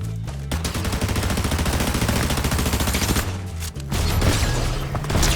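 Rapid automatic gunfire in a massively popular online shooter game, loud dense bursts of shots filling the clip with a brief pause midway, close and continuous with no talking.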